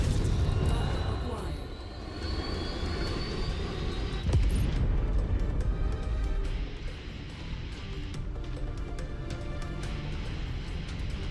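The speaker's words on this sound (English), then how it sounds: "VTOL on approach" A VTOL aircraft closes in during combat in the mech game MechWarrior 5: Mercenaries, its loud roaring engine rumble running steadily throughout with a brief sharp burst partway through.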